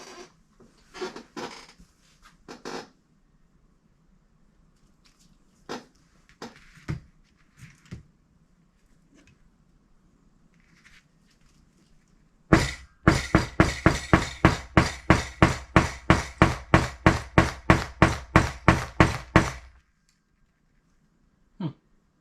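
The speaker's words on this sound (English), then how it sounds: "Hammer time." Hammer blows strike a foam NERF blaster build, first a few scattered knocks and taps, then a rapid, steady string of about twenty loud, close strikes, followed by silence.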